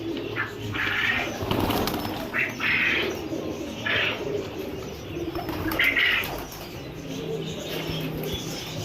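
Golden-breed breeder pigeons cooing in a loft, soft repeated coos rising and falling over a steady background murmur, with occasional wing flaps among the birds.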